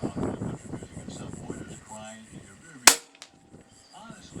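A single sharp, loud crack of a tuned Hatsan BT65 .357 air rifle firing a heavy pellet outdoors. Talking and wind noise come before it, and a faint ringing tail follows.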